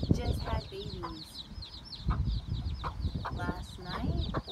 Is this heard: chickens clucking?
yes